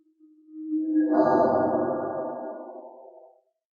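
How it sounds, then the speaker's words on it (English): A reversed, pitched-down impact sound effect with added reverb, swelling from a faint low tone into a loud, booming, smeared roar that then fades away over about three seconds. "So all we did was take this sound, pitch shift it down, added some reverb, and reversed it."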